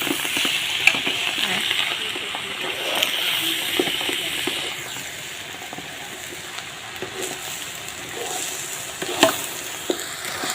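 Boiled rice and sugar for mutanjan sweet rice are stirred in a pot. Close, continuous sizzling and wet bubbling are broken by occasional scraping and clinking stirring strokes, with no talk.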